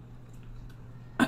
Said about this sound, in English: I always clear my throat